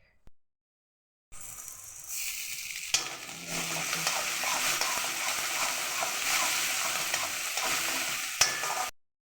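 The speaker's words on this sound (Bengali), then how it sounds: "আদা বাটা দেওয়ার পরে আদা বাটাটাকেও ভালোভাবে কষিয়ে নেব" Ginger paste frying in oil for koi fish curry, stirred with a spatula: after a brief silence a steady close sizzle starts, with scraping strokes and a couple of sharp clinks against the pan.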